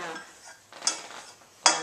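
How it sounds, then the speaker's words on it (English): A utensil scraping and clinking against a bowl while Jello is stirred, with two sharper clinks standing out among softer swishing. "I think I need to stir this first"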